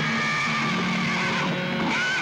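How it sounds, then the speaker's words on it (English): A horse whinnies and neighs as it rears up in a sudden commotion, a steady, fairly loud call over a dense, continuous background roar lasting the whole moment. "Patterson's horse reared, throwing him."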